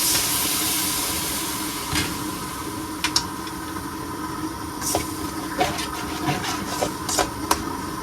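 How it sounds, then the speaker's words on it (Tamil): Water poured into a hot pan of sautéed onion, tomato and egg masala for egg curry, cooked aboard a bus, giving a steady loud steaming hiss with a few sharp clinks and knocks throughout. "தண்ணியை ஊற்றிக்கலாம்."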